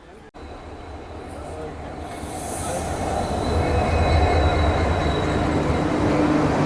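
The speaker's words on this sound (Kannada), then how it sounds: "Yeshwanthpur Haasan intercity super fast cross ಮಾಡಕತ್ತೀರಿ ನಮ್ಮನೀಗ ತಿಪ್ಸಂದ್ರ ಒಳಗೆ." The Yesvantpur-Hassan Intercity superfast train passes a waiting train at Tippasandra on a single line, its rumble and wheel squeal swelling from moderate to loud and steady, heard from inside the stationary coach.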